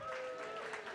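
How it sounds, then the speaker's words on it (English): An audience at a Nerd Nite evening talk claps, a brief, faint wash of applause that stays steady without any distinct individual claps standing out. "How about a round of applause for getting off our butts and coming out in public?"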